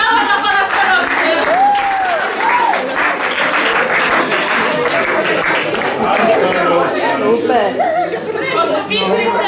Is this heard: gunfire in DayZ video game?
no